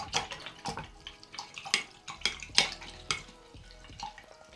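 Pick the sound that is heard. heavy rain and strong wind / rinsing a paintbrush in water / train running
rinsing a paintbrush in water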